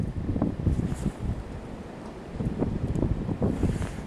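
Blizzard wind gusts roar and buffet the microphone outdoors during a February snowstorm, a steady rumbling wash that surges and eases without any voices.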